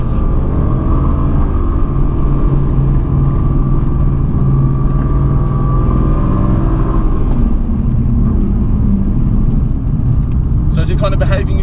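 Mercedes-AMG GT C Roadster driving hard on a race track: a loud, steady engine roar and road rumble with rising and falling revs throughout, under in-car voices talking.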